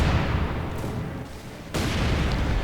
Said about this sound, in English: Incendiary round set up to cover the retreat right here.